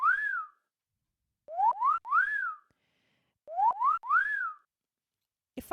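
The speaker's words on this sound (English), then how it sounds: "it's only playing the whistle" Synthesized whistle notes from a Loopy Pro keyboard ring out alone: one gliding tone, then two quick bursts of three rising-and-falling whistles each, ending with a short click.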